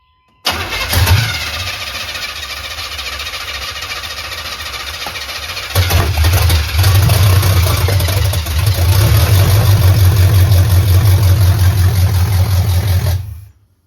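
A 1984 Chevy square body pickup engine cranks and fires, then settles into a loud, steady idle that rises slightly in intensity midway and runs close up for over ten seconds before cutting off.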